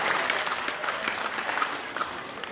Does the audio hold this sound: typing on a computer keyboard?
no